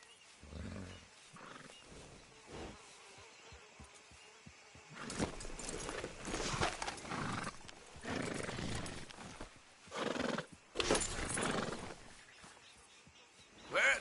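Horse neighs and hoof clip-clop in the video game Red Dead Redemption 2, with bursts of loud animal calls and hoofbeats against outdoor ambience; someone speaks briefly at the start.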